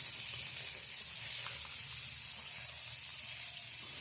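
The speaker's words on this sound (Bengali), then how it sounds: "এবার আমগুলোকে একটুখানি ভেজে নেওয়া হলো" Raw mango pieces frying in hot oil give a steady, even sizzle and hiss that runs without a break the whole time, close and fairly quiet, with no voices.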